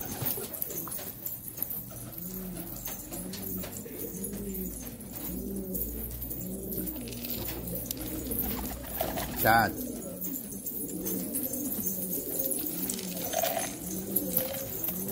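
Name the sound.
pigeons cooing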